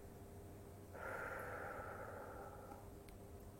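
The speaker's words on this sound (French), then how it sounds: "Et je souffle doucement par la bouche." A slow, soft exhale through the mouth during a sophrology breathing exercise, a steady breathy hiss lasting about two seconds, close and quiet over faint room noise.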